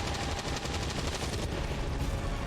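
Rapid weapon fire in the video game XCOM 2, a loud, dense burst of shots rattling in fast succession, heard alone at close range.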